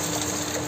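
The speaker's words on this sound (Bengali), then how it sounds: "এবার জল দিয়ে দেবো।" Water pours steadily into a pot of mustard rohu fish curry with a continuous splashing rush, loud and close, for under a second.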